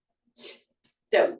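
A person gives a short sharp sneeze, preceded by a breathy intake and a brief voice, in a quiet room.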